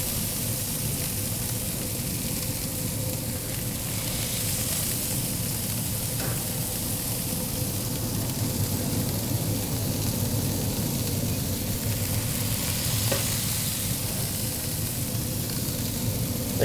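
Onions pressed into a burger patty sizzle on a hot griddle under a heated press, Oklahoma smash-burger style, giving a steady, close hiss of frying that holds evenly throughout with no talk.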